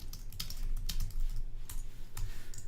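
Typing on a computer keyboard: quick, irregular clicks and taps of keys pressed close to the microphone, with no voices.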